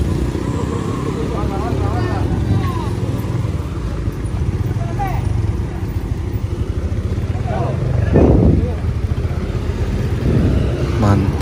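A bus engine rumbles steadily nearby on the mountain road at Sitinjau Lauik, swelling louder as it passes around eight seconds, with voices talking over it in Indonesian.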